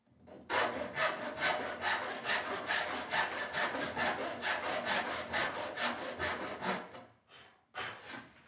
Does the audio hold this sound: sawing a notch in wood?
yes